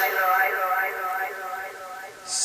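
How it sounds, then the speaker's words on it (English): Recorded female vocals drenched in added reverb and delay, a sustained sung melody with a smeared, echoing tail and layered repeats, moderately loud and alone. "I added a lot of reverb and delay you can hear"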